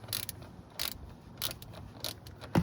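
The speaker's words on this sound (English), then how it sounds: "push down on the bolt as you unthread it" The oil drain plug bolt on a Chrysler 2.4 DOHC four-cylinder engine being unthreaded by hand, a series of soft, evenly spaced metallic clicks and rasps, four or five in quick succession, faint and close with no talk.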